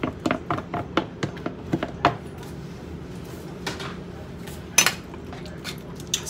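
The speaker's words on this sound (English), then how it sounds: "Stir it up. It's nice and cheesy." A utensil clinks and scrapes against a pan while shrimp are stirred into cheesy spinach pasta, a quick run of sharp taps followed by sparse knocks, with a soft kitchen background.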